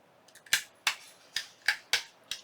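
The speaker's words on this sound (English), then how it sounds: "So I'm rounding the corners off of all 3 of these, and also the tracing paper." Paper and tracing paper being trimmed to round off their corners for a junk journal, giving six crisp, sharp snips in an uneven rhythm, close and clear with no talking.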